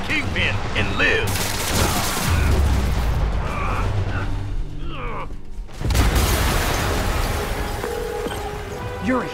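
An explosion in the video game Marvel's Spider-Man Remastered booms heavily amid clattering mechanical noise and crackling debris, loud and sustained, with a brief drop in level before a second strong burst.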